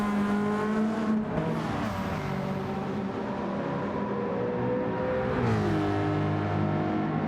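Race car in a Gran Turismo 7 replay, engine droning loud and steady with harmonic tones that climb and dip through gear changes and a swooping pass midway, with no talk.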